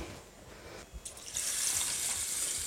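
Water is poured into a saucepan of sushi rice, a quiet rustle that swells after about a second into a steady, close hissing rush that lasts to the end.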